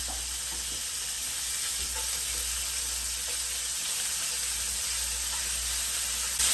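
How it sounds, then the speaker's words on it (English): Shrimp hit an unrinsed hot pan for a Cajun baked ziti, giving a steady close sizzle with light crackling over a low background hum, no voices. "let's introduce our shrimp to the pan."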